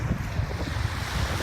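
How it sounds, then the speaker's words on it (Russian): Winter sea waves roll onto the shore at Sochi on a fairly calm day, a steady continuous wash of surf with heavy wind rumble across the microphone and no voices. "Такое у нас красивое море сегодня. Море почти не штормит."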